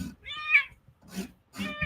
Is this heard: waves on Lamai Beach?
no